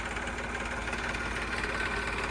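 An Eicher 333 tractor engine idles at a steady rumble for the whole stretch, with a constant low drone and slight knocking texture and no voices over it.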